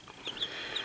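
Young chicks just out of the incubator, an all black chick among Rhode Island Reds, give a few high, thin cheeps close by over soft background rustle.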